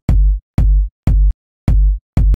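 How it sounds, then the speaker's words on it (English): Five loud, distorted main room techno kick drum hits in a steady rhythm, each an aggressive booming thump with a long sustained low tail, played alone without speech. "This one is aggressive and long tail."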